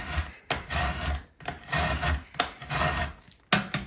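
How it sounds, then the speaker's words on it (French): Repeated firm scraping strokes of a squeegee over a vinyl label, a rough rasping rub drawn back and forth in a steady rhythm, close and fairly loud. "je prends ma raclette et je racle bien fort"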